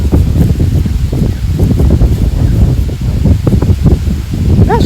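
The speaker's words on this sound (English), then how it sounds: "it's very, very, very windy, as you could hear" Strong wind blows steadily outdoors on a chilly October day, a loud, constant low rumble of gusts buffeting the microphone with rustling throughout and no voices.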